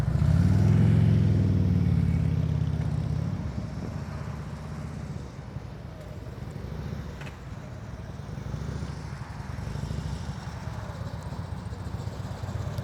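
Motorcycle ridden at slow speed during a practice session in North Carolina, its engine rumbling loud and low at first, then settling into a steadier, quieter low-RPM drone with faint wind and road noise.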